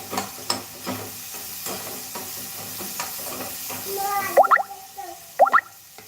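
Hot oil sizzles in a pan while a mixed sprouted-legume curry is being cooked. A soft, steady sizzle runs under a speaking voice, broken near the end by a few sharper spatters and clinks.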